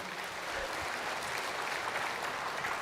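Audience applause during a church sermon, a steady wash of clapping from a congregation lasting a few seconds with no talk over it.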